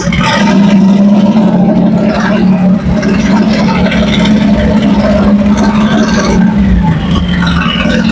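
Engine of a vintage VW or Vespa revved after warming up, a loud close droning roar that swells and holds with a rough mechanical edge, while people talk over it.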